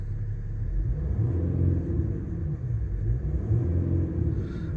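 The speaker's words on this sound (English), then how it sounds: "I'll give it a quick rev for you now." A 2014 Jeep Grand Cherokee 3.0 CRD Limited with a 247bhp V6 diesel and 8-speed gearbox revs briefly, a low, steady, muffled rumble that swells slightly and then settles.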